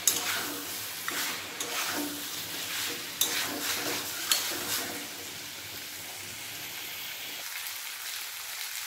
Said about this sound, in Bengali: মাংস যত কষানো হবে ততই রান্নাটা ভালো হবে।